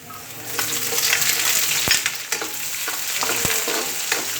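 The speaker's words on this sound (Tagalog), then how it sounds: "Lalagyan na natin yung sibuyas natin." Onion sautés with golden-browned garlic in oil for a mixed-vegetable miki dish, a continuous sizzle with occasional sharp utensil clicks against the pan and no talking.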